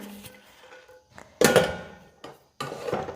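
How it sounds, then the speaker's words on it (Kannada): A pressure cooker lid is fitted and closed with a few hard metallic thunks and scraping clatters, spaced irregularly and loud nearby. "ಇವಾಗ ಬಂದು ಕುಕ್ಕರ್ ಮುಚ್ಚಳವನ್ನು ಕ್ಲೋಸ್ ಮಾಡೋಣ"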